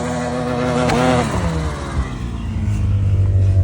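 A Lynx turbo snowmobile engine runs rough in the backcountry, a close, steady buzzing drone that swells and rises in pitch for a moment near the start, then settles into an uneven low hum.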